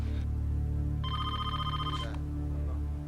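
A dropped cell phone rings with a short burst of bright electronic ringtone tones lasting about a second, over a steady low hum, with no talking.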